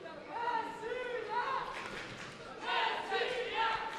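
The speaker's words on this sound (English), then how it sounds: "Crowd chanting Russia, of course." Arena crowd at a Baku 2015 European Games taekwondo quarterfinal chanting for Russia, a rising rhythmic group chant in repeated bursts that swell louder near the end.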